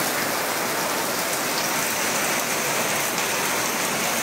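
Torrential rain pours down across Deganga, a dense, loud, even roar of countless drops hitting surfaces that stays constant throughout, with no voices.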